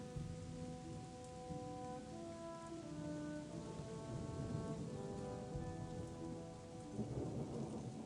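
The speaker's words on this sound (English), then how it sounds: "Oh, but it's raining." Steady rain pours in The Chronicles of Myrtana: Archolos under a low rumble of thunder, with sustained tones drifting through; no one speaks.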